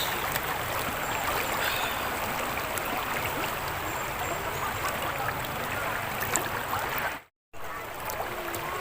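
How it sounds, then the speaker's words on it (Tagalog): A strong current in the Daraitan River rushes steadily, a dense broadband wash of flowing water filling the whole clip with only a momentary break near the end. "Malakas ang agos."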